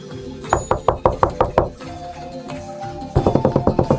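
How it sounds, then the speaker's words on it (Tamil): Knocking on a cottage door in a storybook scene: two bursts of firm, evenly spaced knocks, about eight raps, a pause with a low tonal background, then another rapid run of knocks, close and clear. "விரைவில் கொடிய ஓநாய் பாட்டியின் காட்டேஜை அடைந்து கதவை தட்டியது."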